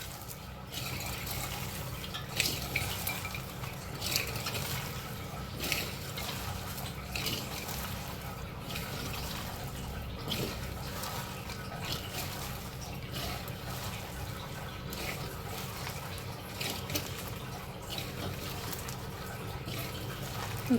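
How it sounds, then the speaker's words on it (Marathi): Masala vada batter with salt, a little baking soda and soaked dal being rubbed and mixed by hand in a bowl, making a continuous close wet squelching and swishing for about twenty seconds. "आता चांगलं मिक्स करूया।"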